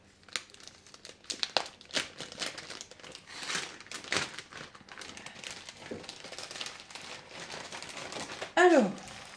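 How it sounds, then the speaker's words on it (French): The plastic bag of a cross-stitch kit is handled and opened with close, irregular crinkling and rustling throughout. A brief voice cuts in near the end. "Je voudrais bien ouvrir le sachet, moi."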